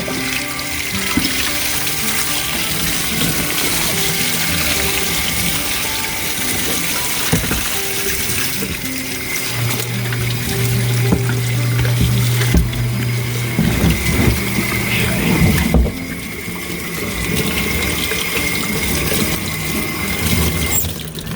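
Hot water running from a tap while a Seeburg 3WA jukebox part is rinsed, a continuous gushing splash with small shifts as the part moves under the stream, close and unaccompanied by speech.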